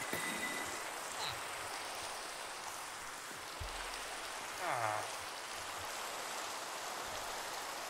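Minecraft rain hisses steadily as a faint, even patter across the whole stretch, with a few soft thumps and a short higher sound breaking through.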